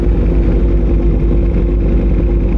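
A Ducati Panigale V4 with a full FM Projects titanium exhaust passes on an Antipolo ride, its steady loud engine roar and deep rumble filling the scene without letup.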